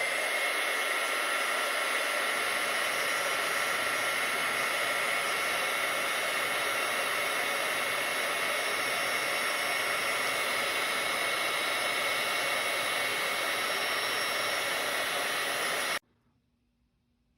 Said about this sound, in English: Now we're just going to use our heat gun.